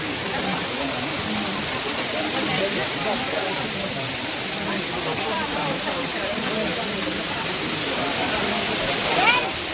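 The Akashganga waterfall near Tirupati roars from close range, a constant broadband rush of falling water that holds steady for about ten seconds.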